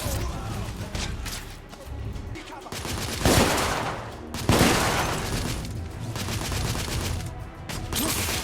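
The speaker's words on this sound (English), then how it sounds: "I'm under heavy fire!" Sustained gunfire fills a firefight in The Order: 1886 video game, with dense bursts and heavier booms over a continuous roar of battle and no pauses.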